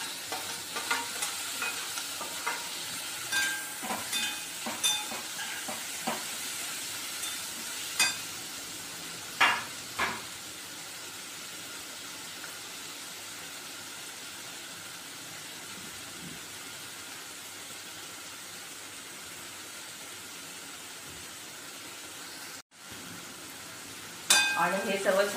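Finely chopped tomato sautéing in a pan, with a steady quiet sizzle and intermittent stirring scrapes and taps of the spoon early on, then a gentler continuous frying hiss.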